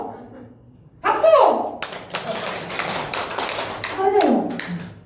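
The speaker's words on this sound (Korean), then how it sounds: "박수." An audience at a talk on old age claps in a short burst of scattered applause lasting a couple of seconds, mixed with voices speaking and exclaiming around it.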